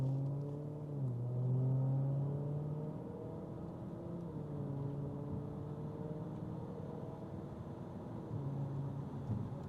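A 2014 Audi RS5 engine hums steadily and pulls through the gears, pitch climbing and dipping as it speeds up, heard from inside the cabin at moderate volume.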